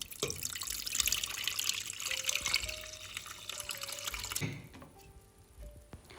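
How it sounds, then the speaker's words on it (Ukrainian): Water is poured off jarred fermented cucumbers, pouring and splashing steadily for a few seconds, then slowing to a trickle with a few drips, nearby and fairly loud. "І ми знову зливаємо із них воду"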